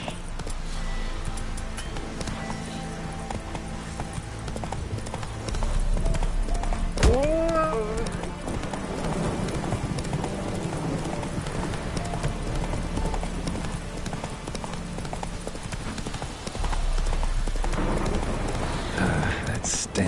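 Horse hooves galloping in the video game The Witcher, a loud steady clip-clop rhythm with a brief whinny partway through, with speech over it.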